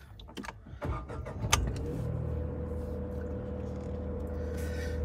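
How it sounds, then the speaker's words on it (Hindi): A petrol-and-diesel car's engine is started: a few clicks and a short cranking burst, then the engine catches and settles into a steady low idle rumble that continues close by. "अब एक बार गाड़ी को स्टार्ट करते हैं।"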